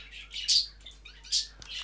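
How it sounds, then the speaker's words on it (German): Pet birds chirp and tweet in the background in bright bursts, two louder calls standing out among softer twittering over a low steady hum, with no speech. "Ihr hört dieses Zwitschern, sage ich mal, immer im Hintergrund, das sind meine Vögel"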